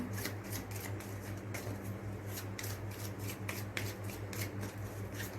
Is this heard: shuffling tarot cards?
yes